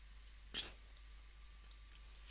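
A single sharp computer mouse click lands near the start, crisp and close against a quiet background hum, followed by a few fainter ticks.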